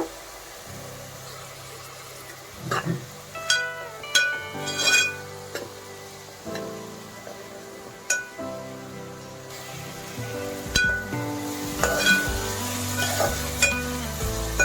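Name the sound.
onion pieces frying with salt and turmeric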